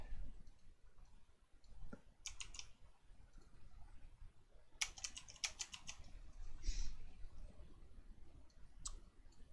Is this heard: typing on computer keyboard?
yes